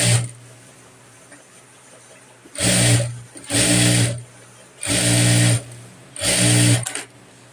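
A sewing machine stitching a Rajasthani kanchli blouse runs in four loud bursts of about a second each, separated by short quiet pauses, up close.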